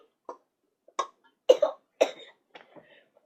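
A person coughs harshly in a parody advert about a sore throat, acting out the fit: five or six separate coughs come in an uneven rhythm, close and fairly loud, with quiet gaps between them.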